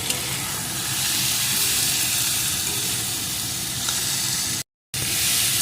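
Brinjal (eggplant) frying over medium-low heat while being stirred in a pan, giving a steady, close hiss of sizzling that drops out briefly near the end, with no voices.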